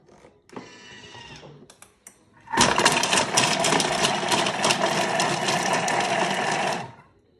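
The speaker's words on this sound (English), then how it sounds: "Onion and garlic, of course. Give that a chop up." A motorised food chopper whirs steadily as it chops onion and garlic, with a loud continuous buzzing drone for several seconds after a brief quieter start and a click.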